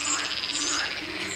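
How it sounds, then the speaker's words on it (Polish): Frogs call continuously from ponds at a zoo, a dense rapid chorus of croaks filling the outdoor air at moderate loudness with no talking. "Słychać żaby."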